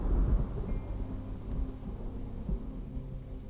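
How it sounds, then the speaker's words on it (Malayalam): Thunder rumbles low and heavy, rolling on and off, over a soft wash of rain in a rural monsoon setting. The sound is moderately loud and distant, with no speech. "നല്ല മഴ വരുന്നുണ്ടല്ലോ."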